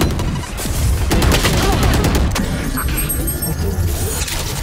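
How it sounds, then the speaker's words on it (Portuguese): Grenade explosion in the video game Valorant, a loud blast with a burst of crackling impacts followed by a decaying rumble. "Granada!"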